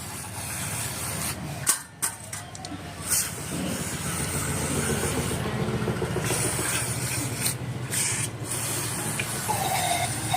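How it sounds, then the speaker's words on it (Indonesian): Aerosol carburetor cleaner is sprayed onto a Honda Vario 110 scooter carburetor during a service, a loud steady hiss lasting several seconds after a couple of short bursts, close to the microphone. "Kita semprot supaya bersih dari kotoran."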